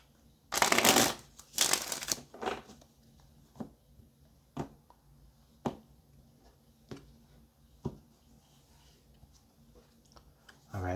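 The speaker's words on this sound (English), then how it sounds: "All right, one more shuffle." Two quick riffle shuffles of a tarot card deck, followed by a series of soft, evenly spaced taps and clicks of cards being handled in a quiet room.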